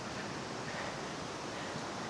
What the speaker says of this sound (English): You have a nice little waterfall right there.